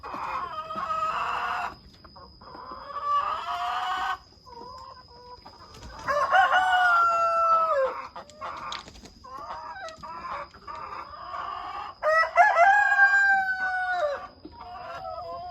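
Chickens on a Thai chicken farm cluck steadily while a rooster crows loudly three times in long, rising calls. Other birds chirp faintly in the background.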